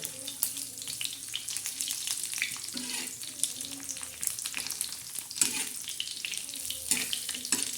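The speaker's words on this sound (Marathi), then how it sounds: "छान असे खरपूस आपण तेलामध्ये बोंबील भाजले आहे" Bombil (Bombay duck fish) frying in oil on a tawa, a close crackling sizzle broken by repeated scraping and turning strokes of a spatula, with brief faint voice in places.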